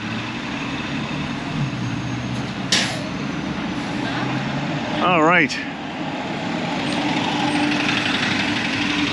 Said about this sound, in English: even the UPS truck is working on a Saturday